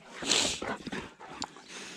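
A farm dog whimpers and snorts in short, close bursts beside a tractor, its whiny cries rising and falling over about two seconds.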